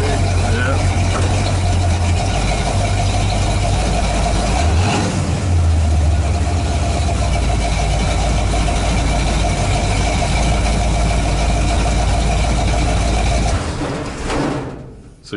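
The engine of a 1977 Dodge Ramcharger idles with a loud, steady, deep rumble close by and briefly picks up revs partway through. People talk over it, and the sound cuts off near the end.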